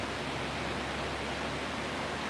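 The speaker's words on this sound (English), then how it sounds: "The waterfall's looking really pretty up there today." A waterfall rushes in a steady, even wash of broadband noise, distant and moderately quiet, with no voices.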